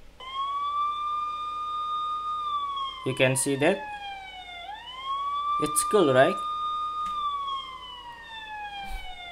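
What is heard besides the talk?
siren alarm sound from phone app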